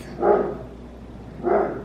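A dog indoors at home gives two separate barks about a second apart, moderately loud and close, over quiet room tone.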